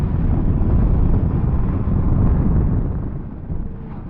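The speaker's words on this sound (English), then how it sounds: "We've got this awful wind today" Strong wind on a cold day at an outdoor motorcycle meet buffets the microphone with a loud, continuous low roar and rumble that eases slightly toward the end, with no voices.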